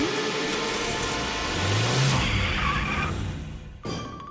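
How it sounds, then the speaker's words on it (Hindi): A cartoon car pulls out with its engine revving, a steady mid-pitched motor drone that swells and rises in pitch before a sudden shift near the end, loud and close with no talking. "मैं गाड़ी निकालता हूँ।"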